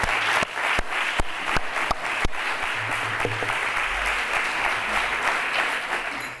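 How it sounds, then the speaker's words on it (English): A conference audience at a talk on treating central sensitization pain applauds the organizing committee. It opens with a few distinct, separate claps, then swells into sustained, even clapping that fades slightly at the end. "I would like to suggest that we give the organization committee a big applause for what they"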